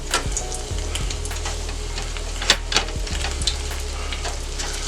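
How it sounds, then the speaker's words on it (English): Baby back ribs deep frying in hot oil give a steady close sizzle and bubbling, with a few sharp pops and crackles scattered through it and no voices. "Frying them up."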